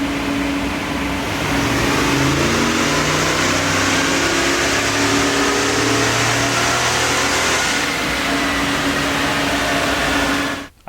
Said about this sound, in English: We're gonna get the big block on the dyno. We got it behind me here, gonna run it